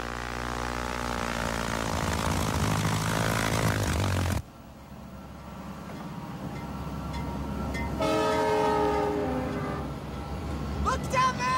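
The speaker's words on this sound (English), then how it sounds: "Look down there! I see his train!" A passing train in an animated adventure, with a deep rumbling roll and layered tonal horn blasts, the sound cutting abruptly midway and then a later rising whistle-like horn over continuous rail noise.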